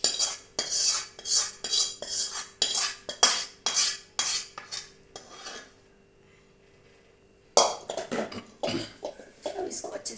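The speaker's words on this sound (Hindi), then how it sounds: "अब इसको अच्छे से मिक्स कर लेंगे।" A spoon rhythmically scrapes and clanks in a pot or tray as melted jaggery syrup is worked into a methi laddu mixture, in steady repeated strokes that pause briefly before resuming, with bits of speech alongside.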